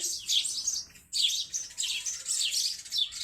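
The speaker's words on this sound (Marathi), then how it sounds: "त्या खोपड्यात सगळ्या चिड्या चिडायत बारक्या बारक्या" Small birds chirping busily in high, rapid bursts, a dense chorus of tweets with a brief pause partway through, fairly close.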